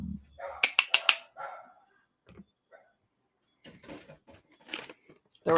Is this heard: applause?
no